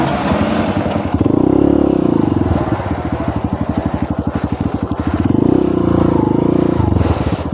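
A Honda CRF150L Rally motorcycle rides off-road on dirt. The single-cylinder engine is loud and close, with a pulsing throttle that rises and falls, plus some clatter from the rough terrain.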